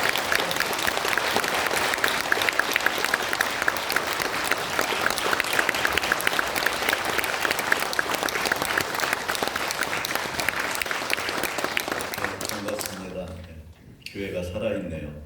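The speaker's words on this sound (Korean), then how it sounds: "박수로 환영합니다." A church congregation at a New Year blessing revival service bursts into loud, sustained applause to welcome the pastor, filling most of the stretch before fading, then a voice speaks over a quieter room.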